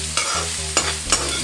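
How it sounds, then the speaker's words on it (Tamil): Ivy gourd (kovakkai) fries in a pan and a spoon stirs it with a few scraping strokes over a steady close sizzle. "பக்கத்துலேயே இருந்து கொஞ்சம் நேரம் கிளறலாம்"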